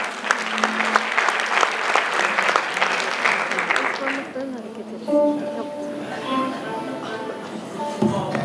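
Audience applause for a choir at a centenary concert of the Giresun music society, dense clapping that fades out after a few seconds into quieter hall sounds with a voice speaking.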